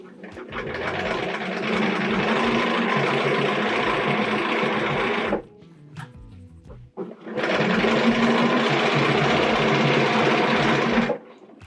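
Sewing machine stitching a long quilt seam, a loud steady whirring run of about five seconds, a short pause with small clicks, then another long continuous burst, close by.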